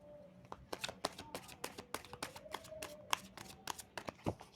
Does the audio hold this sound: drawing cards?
yes